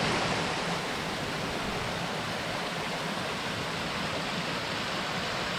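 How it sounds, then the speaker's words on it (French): Flowing water and a waterfall in the São Miguel jungle make a dense, continuous rushing roar that stays steady and close throughout, with no voices over it. "il y a de l'eau qui coule"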